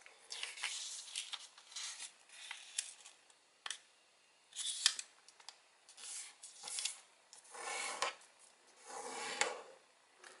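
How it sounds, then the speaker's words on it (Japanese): Origami paper is folded and creased up close, giving quiet, intermittent crisp rustles and sharp crinkling scrapes separated by brief pauses. "さらに折った部分を中央に折ります。"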